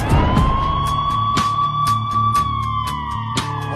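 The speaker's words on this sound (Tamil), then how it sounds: "ஆம்புலன்ஸ் போகட்டும் ஆம்புலன்ஸ் வழி விட்டுருங்கப்பா போகட்டும் வழி விடுங்கப்பா" An ambulance siren wails loudly and steadily close by as the vehicle pushes through a crowd, with sharp clicks and street noise under it.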